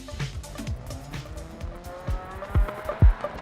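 A rally car engine in the game DiRT Rally revs and shifts with squealing tires and skids, punctuated by loud thumping bursts toward the end.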